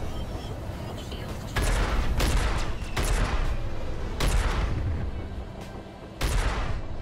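Ship weapons fire in bursts during a space dogfight in the game Freelancer: several loud, sharp volleys at irregular intervals over a steady engine rumble.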